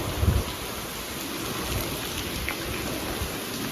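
Dense, steady downpour fills the air with a uniform hiss, opening with a short low thump close by.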